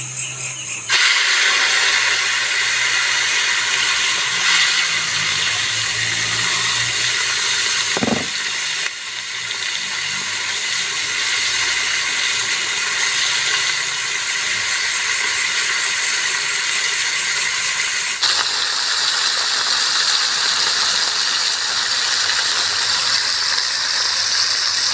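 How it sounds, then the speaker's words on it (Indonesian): Small wader fish fry in hot oil at a campsite shelter in a garden, making a loud, steady sizzling hiss that runs without a break for the whole stretch and gets brighter toward the end. "Ikannya kita langsung goreng."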